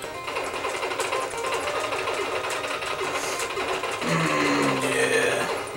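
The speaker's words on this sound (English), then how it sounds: "Yeah. Machine gun." Rapid machine-gun fire from the run-and-gun video game Contra in two-player mode, a continuous dense rattle running throughout, growing slightly louder and busier near the end with rising electronic tones.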